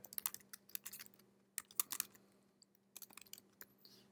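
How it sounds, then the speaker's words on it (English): A computer keyboard is typed on in short irregular bursts of crisp, close clicks with brief pauses, quiet overall and without speech. "what's being typed here"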